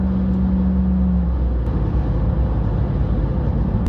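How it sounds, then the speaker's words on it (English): 2022 RAM 1500 TRX with its supercharged Hellcat V8 lets off the throttle after accelerating in one gear, a steady close engine drone settling into a soft, faint exhaust burble with no talk. "when you stay in one gear and you accelerate and then you let off the throttle, you hear a little bit of a burble, a slight burble"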